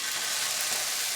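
Batter sizzles in a hot pan, a constant bright crackling hiss heard close up and alone for about a second.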